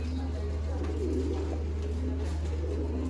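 Pigeons coo in a loft kept by a pigeon fancier, a steady low murmur of overlapping calls running the whole time over a constant low hum, with no clear talk.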